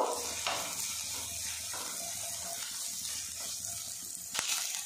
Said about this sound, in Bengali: পেঁয়াজটা কিছুক্ষণ নাড়াচাড়া করে ভাজা ভাজা করে নেব।